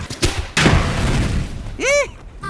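A Tesla Cybertruck packed with consumer fireworks and cans of gasoline exploding in Las Vegas: two sharp, close booms, then a rising whistle, with a voice audible in between.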